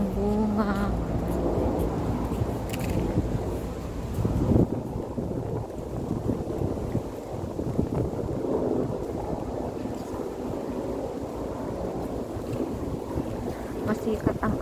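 Strong wind blows on a sunny day in Ma On Shan park in Hong Kong, buffeting the microphone with steady rumbling gusts. A few brief faint sounds break through early on.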